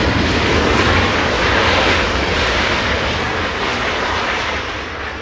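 A Southwest airliner's jet engines roar steadily at Los Angeles International Airport, a loud, continuous broadband rush that holds level for several seconds before easing slightly toward the end, with no voices over it.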